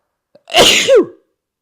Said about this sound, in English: Sorry, but I need to sneeze here.